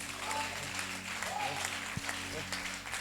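A church congregation applauds a preacher in a steady wash of clapping over sustained music, with voices mixed into the crowd noise.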